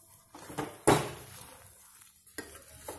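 Tamarind rava upma being stirred and pressed in a pan, with a few sharp scraping and clinking spoon strokes against the metal and a faint low sizzle between them.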